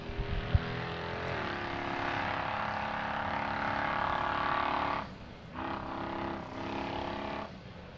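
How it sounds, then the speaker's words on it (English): An off-road race car engine in a 4WP Every Man Challenge qualifying run drones loudly and steadily from a distance, dipping briefly twice near the end as the driver lifts off and comes back on the throttle. "Being able to hear that engine all the way back here in Hammertown."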